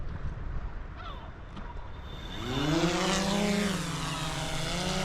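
A waterproof drone launches from a canoe, its propellers spinning up into a loud rising buzz that settles into a steady whine after a quiet start.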